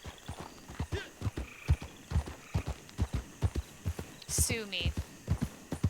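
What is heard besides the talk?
horse hooves clip-clopping in the video game Red Dead Online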